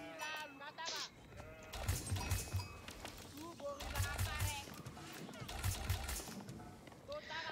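Sheep in the strategy game Age of Empires IV bleat in short repeated bursts, with soft hoof clops between them, while someone talks continuously over the top.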